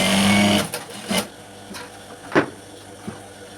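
A sewing machine stitches the bottom hem of a high-school skirt, running in a steady whir that rises in short close bursts and pauses between runs.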